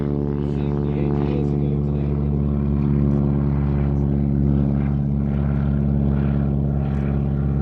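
A Super Stearman biplane climbs away on takeoff at the Sywell Airshow 2024, its radial engine and propeller giving a loud, steady, throbbing drone that holds through the whole stretch.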